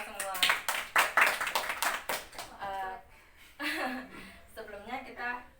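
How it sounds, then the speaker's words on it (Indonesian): A small group in a counseling session claps in a few sharp, closely spaced bursts at the start, then the clapping fades and voices and laughter take over in the second half. "Tepuk tangan untuk kita semua."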